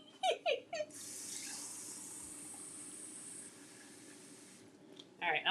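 Hot water runs from a kitchen tap as a soft, steady hiss for a few seconds, quiet and close, with brief voices just before and after.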